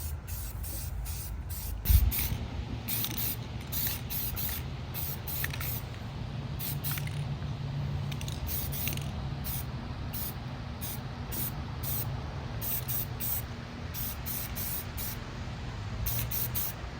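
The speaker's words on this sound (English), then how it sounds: "Clear coating the frame now, giving it that wet look." Clear coat sprayed from an aerosol can onto a custom-built mini street bike frame, a close continuous hiss broken by a rapid series of short repeated spray bursts with a faint bump near the start.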